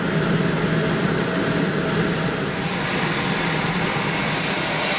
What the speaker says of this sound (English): what you're hearing is the nozzle coming up the line.